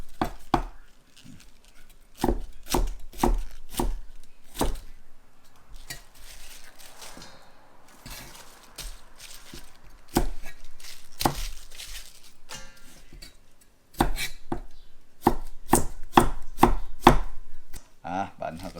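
Repeated knife strokes chopping vegetables into long pieces on a board in a home kitchen, sharp close taps in fast bursts with a few pauses between runs, no talking.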